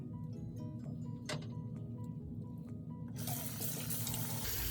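Water runs from a tap while hands and face are wetted at a sink, beginning as a soft trickle with a few clinks and splashes, then swelling into a full, loud gush partway through.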